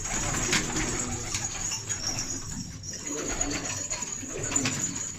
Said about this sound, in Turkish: Çok güzel güvercinleri var.